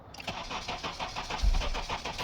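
Honda CR-V with a no-start fault briefly firing: rhythmic starter cranking up close, then a short low surge as the engine catches and quickly dies, with no talking.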